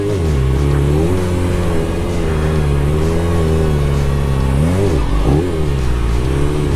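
A Harley-Davidson Sportster motorcycle engine revs continuously through a circle wheelie, loud and close, its pitch rising and falling with clutch work and dipping sharply once before climbing again.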